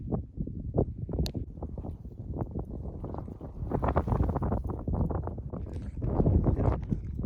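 Gusting wind buffeting the microphone on a mountain hiking trail, rumbling low bursts that rise and fall irregularly and grow stronger toward the end, with no voices.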